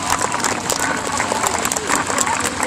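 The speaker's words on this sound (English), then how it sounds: "Ladies and gentlemen, how about we have a big round of applause for my Irish Whip riders?" Applause from a crowd at a White Helmets motorcycle display team show, steady and dense throughout, with scattered cheers and voices mixed in.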